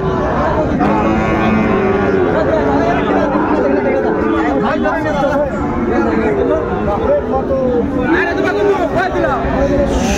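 Sahiwal bulls and calves at a busy rural cattle market in Dinajpur, with occasional lowing under a dense, constant crowd chatter and shouting, loud and close.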